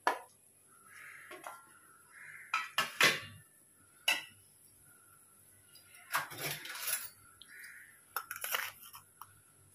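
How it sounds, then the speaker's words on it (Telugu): Fried masala stirred into sorrel (gongura) rice in a pan, with scattered metallic scrapes and clinks of the utensil against the pan arriving in short irregular bursts, close and fairly loud, with quiet pauses between. "ఇప్పుడు ఈ వేయించిన మసాలా కూడా ఇందులో కలపాలి"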